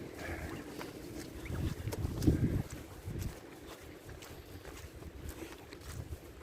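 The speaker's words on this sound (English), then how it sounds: "Nice and windy." Wind gusts through woods on a stormy day, a steady rushing roar with low rumbling buffets against the microphone that swell to a peak midway, then settle back to a constant blustery hiss.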